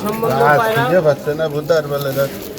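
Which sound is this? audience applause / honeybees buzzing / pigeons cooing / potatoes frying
pigeons cooing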